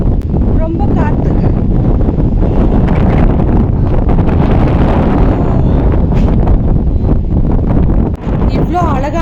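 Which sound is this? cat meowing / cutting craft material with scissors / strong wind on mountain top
strong wind on mountain top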